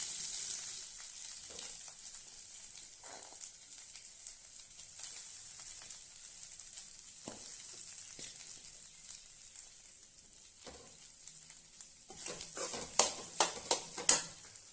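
Curry leaves sizzle and fry in a pan of oil while making ladies finger (okra) podi, a steady soft crackle throughout, ending in a few sharp spatters and pops, with no voices.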